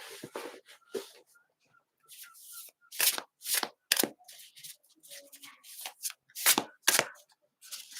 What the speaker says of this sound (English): I'm going to start shuffling and you think of your question whenever you're ready.